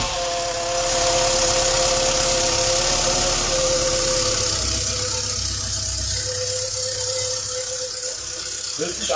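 VW Polo 86c engine running at idle after a camshaft seal repair, a close, steady mechanical drone with light rattling, its pitch settling slightly midway, with no talking.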